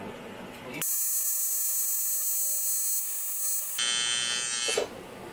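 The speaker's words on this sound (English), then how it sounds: "There's so much to do and so much to remember when you're doing TIG welding." A TIG welding arc on the tongue of an NSX trailer, a loud steady high-pitched electric buzz in two long stretches broken by a brief pause, with speech before and after.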